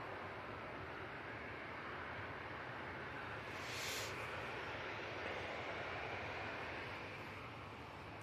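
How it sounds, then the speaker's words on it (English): A Ryanair Boeing 737-800 at Manchester Airport gives off a steady, distant broadband jet roar that stays even throughout, with a brief high whine rising near the middle. "Coming on via Tango, we have the Ryanair 737-800 that's going to Cork."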